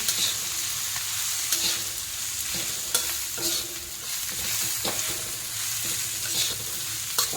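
Chillies stir-fried with amchur powder in a pan, a soft continuous sizzle broken by regular scraping knocks of a spatula stirring them.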